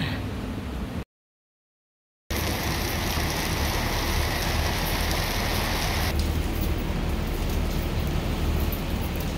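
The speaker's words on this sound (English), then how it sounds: "I did not sign up for the rain." Steady rain falls in New York City, a dense, loud, close hiss that runs throughout apart from one brief dropout.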